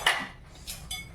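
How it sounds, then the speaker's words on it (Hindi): Dishes, pots and utensils being washed in a village home kitchen, giving a few sharp metallic clinks and clatters spread over a short stretch, fairly close but not loud, with no talking. "माँ अभी बर्तन धोने के लिए जा रहे हैं।"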